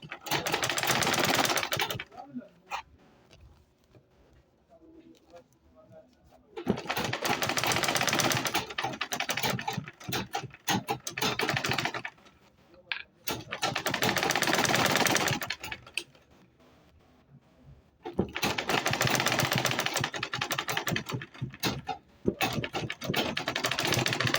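A sewing machine top stitching a tote bag runs in four long bursts of rapid, loud mechanical whirring and needle chatter, separated by short quiet pauses.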